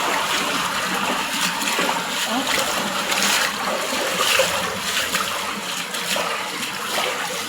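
Floodwater from the street pours into a house in Bacoor, rushing and splashing loudly and continuously, with a voice briefly exclaiming.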